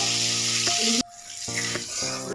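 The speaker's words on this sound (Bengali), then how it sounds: "গোটা জিরে দিয়ে দিচ্ছি, একটুখানি পেঁয়াজ কুচি দেবো।" Whole cumin seeds sizzling in hot oil in a kadai while fish is cooked, a loud steady crackle that cuts off sharply partway, then resumes with metallic clinks and harmonic tones at intervals.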